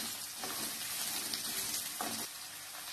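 Garlic and shallots sautéing in a pan with onion, a steady broadband sizzle of frying with a couple of brief stirring scrapes, close and continuous throughout.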